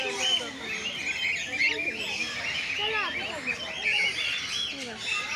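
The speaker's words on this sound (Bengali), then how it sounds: "মানে বিভিন্ন ধরনের পাখি এখানে দেখা যাচ্ছে।" Many birds chirp and tweet in a busy, overlapping chorus at Alipore Zoological Garden in Kolkata, close and fairly quiet, with people talking in the background.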